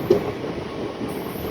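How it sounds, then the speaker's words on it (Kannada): A Shatabdi Express heading from MGR Chennai Central to Mysuru rushes past at high speed with a loud, steady broadband roar and one brief sharp squeal near the start. "ಶತಾಬ್ದಿ ಟ್ರೈನ್ ಈಗ ಕ್ರಾಸಿಂಗ್ ಬಂದೇ ಬಿಡ್ತು ಸಡನ್ನಾಗಿ."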